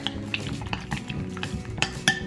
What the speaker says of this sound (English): See, that coconut oil has just gone completely liquid now. Give that a stir up.